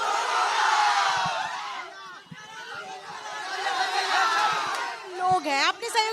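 Dense crowd at an election campaign rally, voices massed in continuous loud chatter and shouting throughout, with a few sharper whoops and cries rising near the end.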